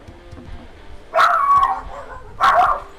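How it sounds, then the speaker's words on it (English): Two loud bursts of dog barking, close by, separated by a short pause, with faint background noise between. "My dogs are going crazy."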